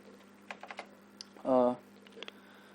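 Scattered keystrokes on a computer keyboard tap softly during a JavaScript coding lesson, with a brief louder burst of noise in the middle and a low steady hum underneath.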